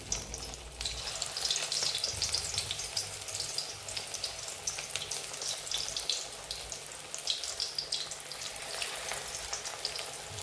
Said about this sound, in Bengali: তেলটা প্রথমে গরম করে নিয়ে একদম কমিয়ে দিতে হবে। দিয়ে বড়াগুলো বসিয়ে নিয়ে